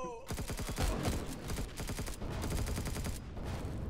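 Ship guns firing in the video game Empyrion Galactic Survival, a rapid stream of loud, evenly spaced shots close by, running almost the whole time with a brief pause near the end.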